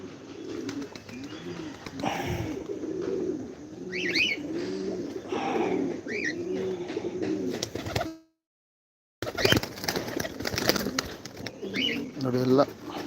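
Pigeons in a loft coo in repeated low, rounded phrases close by, layered with chirps and fluttering, broken by a brief silent gap, while someone talks intermittently over the birds.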